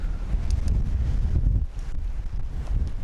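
Wind blowing across the deck of a 34 m steel-hulled 1960 English yacht, loud continuous low rumble buffeting the microphone with gusty swells, no voices.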